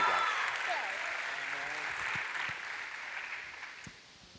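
Conference audience applauding in a large hall, a steady wash of clapping that fades toward the end, with faint voices mixed in.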